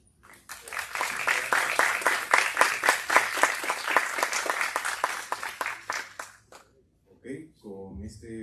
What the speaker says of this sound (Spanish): Con este caluroso aplauso agradecemos y despedimos a Ricardo, Enrique y Felipe